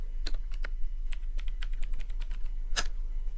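A computer keyboard being typed on to enter a network switch command, with a dozen or so crisp, irregular key clicks close by over a low steady hum and no voices.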